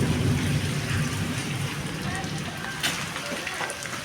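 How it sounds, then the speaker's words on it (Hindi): Heavy rain pours down in Peshawar, a dense continuous hiss of water on surfaces that stays steady throughout, close and fairly loud. "बहुत तेज़ बारिश हो चुकी है।"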